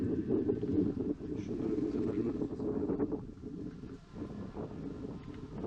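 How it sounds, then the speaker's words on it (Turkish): Gusty wind buffets the microphone in a low, rumbling roar that rises and dips, fairly faint overall. "Gerçekten çok rüzgar var"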